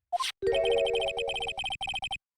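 Telephone in the Phoenix Wright: Ace Attorney video game ringing after a redial, a brief beep followed by a loud, close electronic ring in rapid pulsing bursts, alone.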